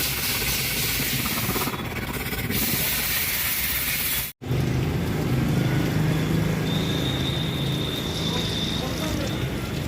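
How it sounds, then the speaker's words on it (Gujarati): A pressurised water jet cleans the clogged AC unit of a Tata Nexon car, producing a loud, continuous, close hissing spray. The spray breaks off for a split second midway, then resumes. "પાણીના પ્રેશરથી અત્યારે ગાડીનું એસી સાફ થાય છે."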